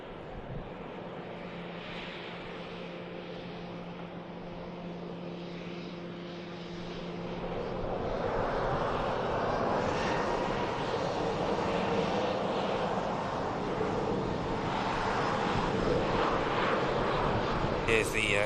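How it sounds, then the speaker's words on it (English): An EasyJet airliner arriving from Bilbao touches down at Manchester Airport, its jet engine roar swelling from a distant hum to a loud, sustained rumble, with voices talking faintly underneath. "Here's the EasyJet from Bilbao next to touch."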